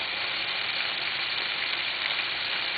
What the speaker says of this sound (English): Once your butter is melted, you're going to add a little bit of flour